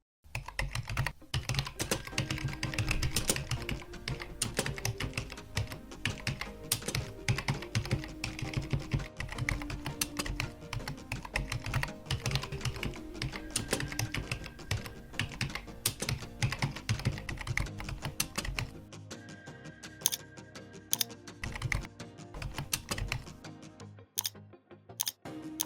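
Rapid, continuous clatter of typing on a computer keyboard, dense irregular keystrokes close up for the whole stretch, thinning toward the end, with no speech.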